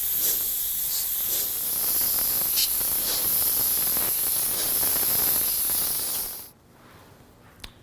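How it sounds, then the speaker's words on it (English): A steady airbrush hiss sprays unthinned Createx airbrush paint straight from the bottle continuously for about six seconds, then cuts off abruptly, leaving near-quiet with a faint click. "we're going to go ahead and spray just like this,"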